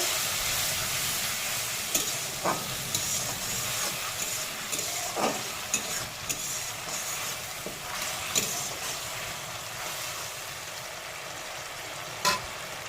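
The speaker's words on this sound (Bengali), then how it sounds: "একটা বড় টমেটো ভালো করে কষিয়ে নেব" A large grated tomato sautéing in a pan, continuous loud sizzling and hissing with scattered clicks of a spoon stirring throughout.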